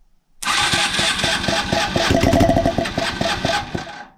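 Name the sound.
Yamaha SR 125 motorcycle engine starting briefly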